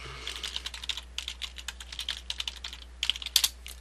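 Rapid clicking keystrokes on a computer keyboard as a password is entered into parental control settings, a steady run of light taps with a quicker burst near the end, close and alone.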